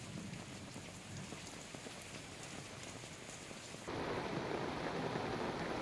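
Steady heavy rain pours down continuously on a rural area in Gujarat, India, growing noticeably louder and denser partway through as the downpour intensifies.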